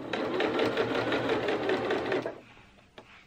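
A sewing machine top-stitches the hem of a circle skirt with a fast, even mechanical whirr for about two seconds, close and loud, then stops, leaving a couple of faint clicks.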